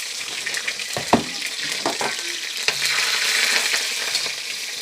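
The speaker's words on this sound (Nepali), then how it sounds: "अब तेलमा मैले थोरै मेथी पुऱ्याएर यो खुर्सानीलाई अघि काटिराखेको खुर्सानीलाई पनि यसरी" Chopped green chillies and fenugreek seeds fry in hot oil for a homemade pickle, giving a close steady sizzle with scattered clicks and stirring scrapes.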